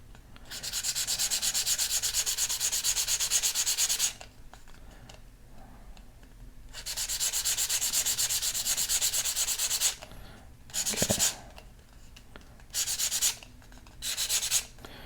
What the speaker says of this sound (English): just kind of roughen up the cardboard a little bit so it'll accept the glue